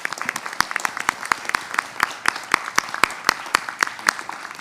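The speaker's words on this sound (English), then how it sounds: "if I may ask for a round of applause for Tracy as well" A meeting audience gives a round of applause for Tracy, the chair, with a modest number of hands clapping in a brisk, uneven rhythm close by.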